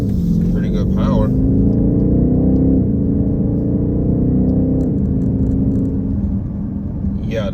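A 2023 BMW X6 M50i with a twin-turbo V8 accelerates on the road, a deep, steady engine rumble heard from inside the cabin with a rising tone, and a person talks briefly over it.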